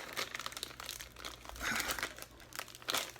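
A plastic bag from a perfume package unboxing crinkles and crumples in close, irregular bursts as it is handled, fairly quiet with no talking.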